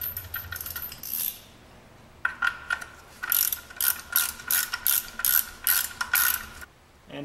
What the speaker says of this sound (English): Once the oil is drained, you can install your new drain plug.